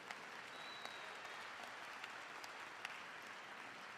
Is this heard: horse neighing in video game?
no